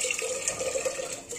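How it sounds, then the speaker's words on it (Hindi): RO water poured into rice in a pot, a steady splashing and trickling flow lasting the whole short moment, close and fairly soft, with no talking. "हमने थोड़ा आरओ का पानी डाल दिया है चावल में"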